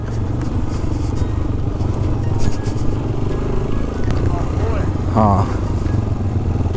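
A motorbike rides along a calm hill road toward a fire watch tower at Karor in Kotli Sattian, its steady close engine drone running throughout beneath a brief spoken word.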